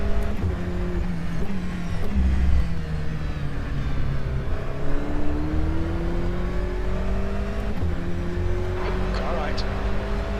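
DPi prototypes and GT race cars lap the Daytona 24-hour track in heavy traffic, engines droning and shifting pitch as cars pass close by, with a voice talking over the steady roar.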